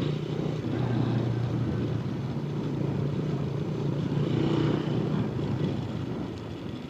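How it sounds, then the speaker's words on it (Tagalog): A small-wheeled motorcycle rides along a bumpy, potholed road, its engine droning steadily with a low hum and rattling road noise, continuous and close, with no talking. "Sobrang maingay. Ingay ng motor natin sa gulong banda."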